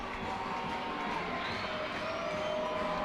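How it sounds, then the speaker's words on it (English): Baseball stadium crowd at a minor league game, Bowie Baysox vs Reading Fightin Phils, a steady dense roar of cheering and chatter with occasional whoops, continuous and fairly loud throughout. "Crowd getting some energy here."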